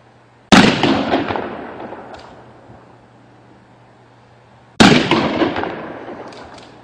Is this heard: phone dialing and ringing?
no